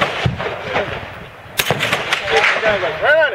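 Rifle shots ring out on a practical rifle shooting stage, a couple of sharp cracks close by amid outdoor noise, with a voice speaking briefly.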